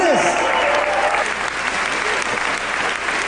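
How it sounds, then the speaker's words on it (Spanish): Church congregation applauding during a Wednesday formation service: loud sustained clapping from many hands, steady throughout, with a voice briefly audible over it at the start. "Den fuerte el aplauso a Jesucristo"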